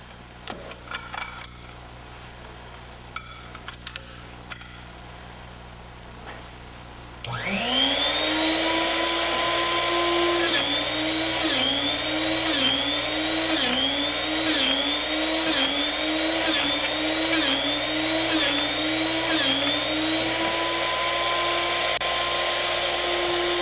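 A Drill Doctor sharpener grinds a drill bit to split its point: after a few soft clicks and handling taps, the motor starts with a loud steady whine, and rhythmic pulsing grinding strokes repeat close up before it settles.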